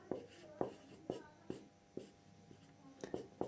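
Marker or chalk strokes on a board while a definition is written out during a geometry lesson on the centroid of a triangle, a series of short scratchy taps and squeaks at irregular intervals, fairly close and alone.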